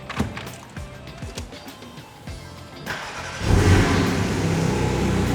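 A Can-Am Spyder RS three-wheeler cranks with clicking and whirring, then its engine catches and settles into a loud, steady idle with a raspy rumble.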